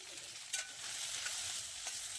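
Onion and masala sauté in a pan for a Malvani wet cashew curry, giving a steady close sizzle broken by a few scraping stirs, with no voices.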